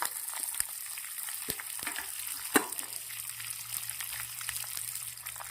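Garlic, onion and capsicum fry in a pan over whole spices such as cumin, cinnamon and bay leaf, making a steady close hiss with a few sharp clicks of stirring and no talk.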